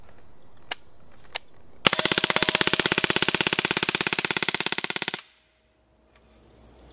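Umarex Legends MP-40 BB submachine gun loaded with steel BBs, fired in full auto: two single sharp shots, then a rapid, even burst of about three seconds of loud mechanical clacks that stops abruptly.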